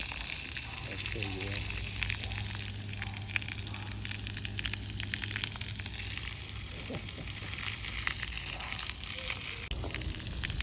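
Water gushes steadily out of a hot water heater being drained and flushed, a continuous broadband hiss and splash running the whole time at close range, with a low hum underneath and brief faint speech-like sounds mixed in.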